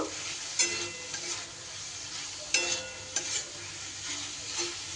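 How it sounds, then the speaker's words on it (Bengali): Fried cauliflower being sautéed with spice paste in a pan over medium-low heat, a quiet continuous sizzle with occasional scraping stirs and a few light clinks of the spatula, close up. "ফুলকপিটার সাথে মশলার সাথে একটু ভালো করে কষিয়ে নেব"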